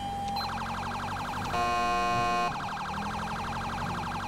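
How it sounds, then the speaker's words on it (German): A US police siren from the video game GTA 5 wails in a fast yelp, switches briefly to a steady piercing tone, then returns to the rapid warble, loud and continuous with no talking. "Diese Sirene finde ich so nice in den USA."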